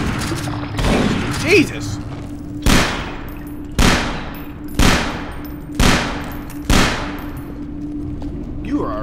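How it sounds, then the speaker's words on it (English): Six loud, evenly spaced shotgun blasts ring out in a Half-Life 2 mod game, each a sharp crack with a short decaying tail, with a startled voice exclaiming early on. "You are a good shot with that shotgun"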